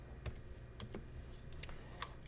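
Keys pressed on a graphing calculator while entering a quadratic: several light, sparse plastic clicks spread unevenly over two seconds, close but quiet, over faint background hum with no talk.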